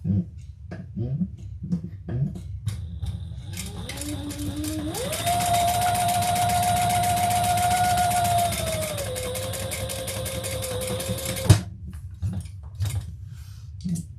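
A sewing machine runs a row of top stitching on fabric for several seconds, its motor climbing in pitch and then easing off before stopping, with light clicks and handling noises before and after.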